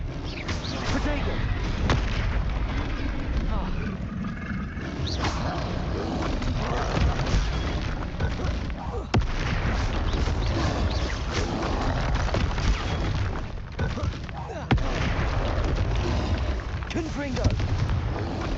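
Booming magical blasts and crackling impacts from Confringo and other spells in Hogwarts Legacy fire off repeatedly in a dense, chaotic battle, with a voice shouting throughout.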